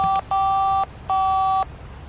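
A phone in The Da Vinci Code video game dials three crisp, steady touch-tone beeps. The first is short and the next two are longer, all heard alone and close.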